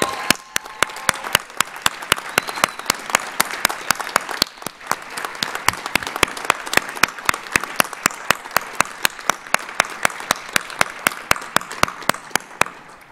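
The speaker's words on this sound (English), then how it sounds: "please give them a round of applause for thanking them" Sustained audience applause at a physician assistant graduation ceremony, a broad wash of clapping punctuated by sharp, regular nearby hand claps, continuing for over ten seconds.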